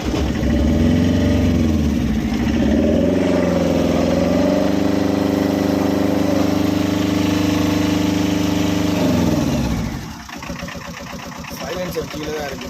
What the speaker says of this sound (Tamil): வண்டியை ஸ்டார்ட் பண்ணி காமிக்கிறேன்.